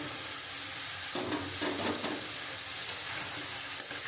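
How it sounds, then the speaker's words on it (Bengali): Potatoes and soy chunks sizzle and hiss as they hit hot oil and cooked spice paste in a pan, a steady close frying sound that swells as they go in and keeps crackling throughout. "আমি এবার আলু সয়াবিনটা দিয়ে খুব ভালো করে আমি একটু কষিয়ে নেব"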